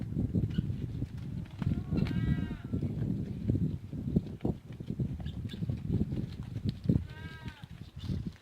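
Goats on a farm give two short wavering bleats a few seconds apart, over a steady background of low rustling and shuffling livestock noise.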